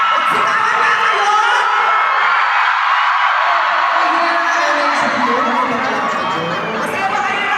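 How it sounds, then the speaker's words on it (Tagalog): A large crowd at a pageant celebration in Ilocos Norte shouts, whoops and cheers steadily for several seconds, a dense roar of many voices close by with no clear pauses. "Sigawan na kayo!"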